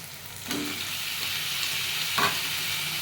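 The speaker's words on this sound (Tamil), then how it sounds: "சிக்கன் வந்து க்ளீன் பண்ணி தயிர் வச்சு க்ளீன் பண்ணி வச்சுருக்கோம் அதை சேர்த்துக்கலாம்" Yogurt-marinated chicken hits a hot pan with a sizzle, then a steady frying hiss continues as it is stirred, with a couple of louder scrapes of the spoon against the pan.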